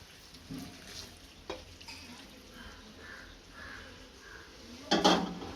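Motichoor laddu mixture being stirred in a pan: soft scraping strokes throughout, ending in a louder clatter of spoon against metal near the end, no talk.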